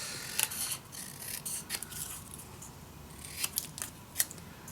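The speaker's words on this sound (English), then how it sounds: "So I am gonna cut it out." Scissors snip out small paper pieces for a scrapbook mini album, a series of quiet, crisp cuts close to the microphone, with no talking.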